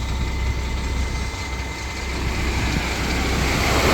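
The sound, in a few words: boat engine idling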